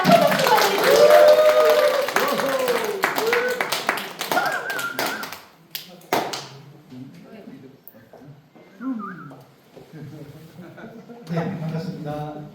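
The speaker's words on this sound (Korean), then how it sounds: "큰 박수 부탁드립니다" Applause breaks out as a company founder is introduced at a business event, dense clapping at first that thins out. Then come scattered sparse claps and a spoken voice over quieter room noise.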